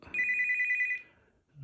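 Another HTC Touch Diamond ringtone: a short, loud, trilling electronic ring with rapid warbling pulses that cuts off after about a second, leaving near silence.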